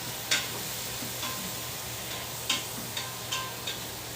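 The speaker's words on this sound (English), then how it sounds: "So I will let these saute." Seasoned oxtails saute in a pan with a steady, soft sizzle, marked by a few faint clicks and ticks from the cookware.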